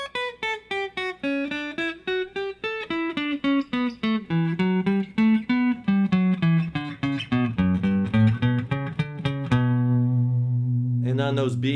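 Electric guitar running a connected scale up and down across the strings, a steady stream of clean plucked notes climbing and zigzagging back, ending on a sustained low note and a short strum.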